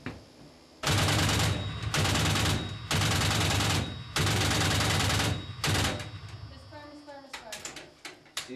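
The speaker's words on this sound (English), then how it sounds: "Fire 25 rounds at target 2, misfire reload, 25 rounds at target 3." A Coast Guard mounted automatic weapon fires sustained bursts of rounds at a target during training, five long loud bursts with short gaps between them, then quieter trailing sounds at the end.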